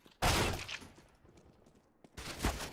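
Two loud bursts of rapid video game gunfire from a gun with many bullets, separated by a quieter pause, each burst a dense fusillade of shots close up.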